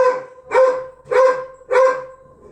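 A dog barks four times in an even rhythm, each sharp bark close and fairly loud with short gaps of quiet between.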